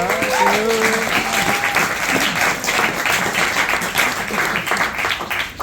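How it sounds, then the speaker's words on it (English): A loud, sustained round of applause from an audience, steady and dense throughout, with a voice speaking over the start. "applause for you all"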